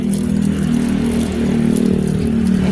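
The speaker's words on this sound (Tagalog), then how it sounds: "Kasaba sad sa mga motor eh" Motorcycle engines humming and revving nearby, a continuous mid-pitched drone that swells and dips slightly, loud and steady without speech.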